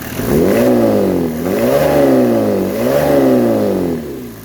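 A 1995 Mercedes E300 engine, warmed up to operating temperature, runs steadily at a loud, rough idle, its pitch rising and falling in slow waves as if lightly revved.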